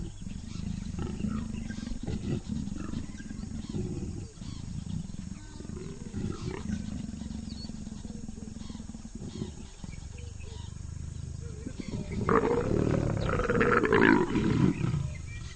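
Leopards mating in a tree give repeated low, rasping roars and growls, close and strong, with a loud snarling burst near the end over faint insect and bird sounds.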